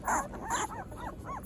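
Newborn Newfoundland puppies whimper and yip in a quick run of four or five short, high, close squeals, with no other sound between them.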